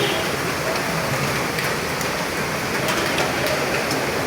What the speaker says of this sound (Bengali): শব্দ শুনতে পাচ্ছেন? শিল পড়ছে।